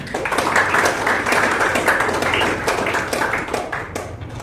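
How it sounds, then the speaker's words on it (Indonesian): An audience in a teaching session claps together, with dense, sustained applause at close range that carries on without pause. "Silakan kembali ke tempat, tepuk tangan buat semua."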